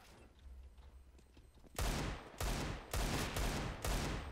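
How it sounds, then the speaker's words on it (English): Desert Eagle pistol fire in Counter-Strike: Global Offensive, five loud sharp shots in an even rhythm, following a quiet stretch of faint background game noise. "that was two hits with a Deagle"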